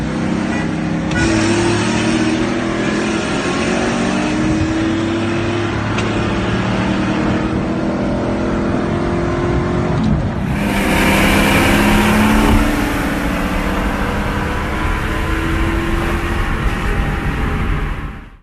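A 2001 zinc yellow Mustang GT races a 1997 Mustang Cobra, loud V8 engines roaring and climbing through revs in a sustained pull, with a brighter, harsher surge of engine noise partway through.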